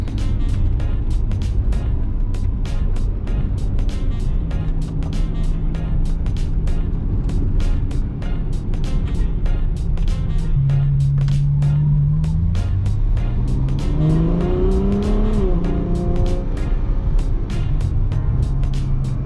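Exhaust of a 2016 Ferrari F12 on an open road in the Hamptons, a steady loud engine drone with rising and falling tones near the end as it pulls through the gears, heard continuously from close by.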